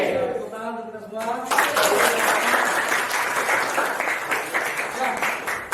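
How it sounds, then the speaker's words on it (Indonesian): Loud applause from a classroom full of students, rising after a brief opening and continuing steadily, dense and close. "Tepuk tangan untuk kita semua."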